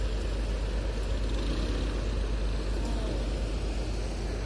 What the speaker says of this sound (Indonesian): Oh, rupanya ada bus pariwisatanya Bang Sewan ini, Rimbun Raya